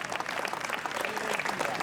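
Audience applause at a lecture on Sardinia fills the hall, a dense, steady wash of many hands clapping at moderate level with no voices over it.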